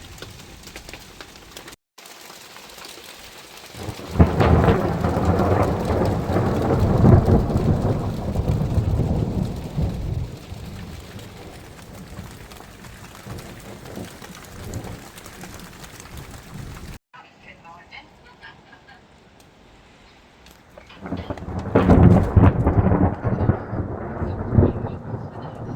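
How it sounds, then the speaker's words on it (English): Thunderstorm over an allotment, with heavy rain hissing steadily and deep thunder rumbling loudly twice, the second roll coming after a brief lull in the downpour. "Here comes the storm."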